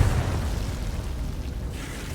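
Confringo blast spell from Hogwarts Legacy, a dense low rumbling explosion that bursts loudly at the start and rolls on in a sustained boom for about two seconds, with no voices over it.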